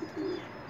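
A single soft, low pigeon coo, brief and close, with quiet background.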